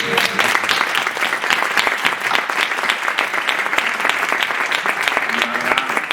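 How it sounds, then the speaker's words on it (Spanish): Applause from an audience at a conference session, many hands clapping loudly and densely close by, with a sustained level throughout and no talking over it. "Sí, un aplauso."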